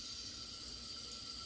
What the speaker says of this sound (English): switch the sink over to cold, so that can run cold while I'm washing off with the warm water